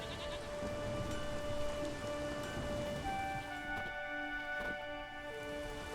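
Rain patters steadily in a village in The Witcher 3: Wild Hunt, low and continuous under sustained tonal music, with a couple of brief cracks that may be thunder.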